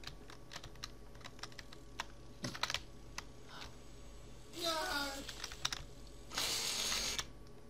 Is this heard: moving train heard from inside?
no